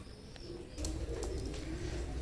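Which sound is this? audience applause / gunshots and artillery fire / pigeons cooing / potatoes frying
pigeons cooing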